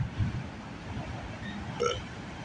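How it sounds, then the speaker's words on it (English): A short, low burp sounds near the end over steady outdoor night-time rumble beside a railway line, brief and fairly soft against the background noise. "Pardon me, I just burped."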